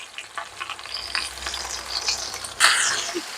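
Garlic cloves brown in a hot pan beside ground beef, a close sizzle with light stirring scrapes and a sudden louder burst of hissing near the end.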